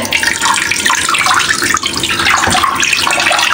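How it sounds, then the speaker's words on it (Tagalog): Steady rushing water pours continuously into a bowl holding iodized salt for a fish brine, a full, splashing stream with no voices. "Then, lalagyan lang natin ng tubig."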